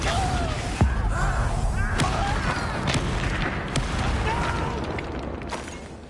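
Booming spell blasts from Confringo in Hogwarts Legacy combat, several sharp impacts and thuds spread across a loud, busy battle bed, with faint voice-like cries mixed in.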